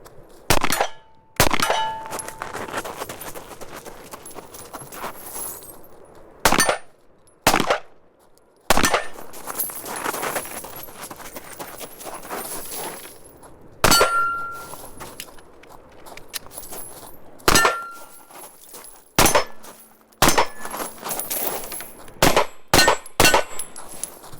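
Carry handguns fire in a string of sharp, loud shots at a steel target 50 yards away, each crack followed by a ringing clang, spaced irregularly over a quiet outdoor background.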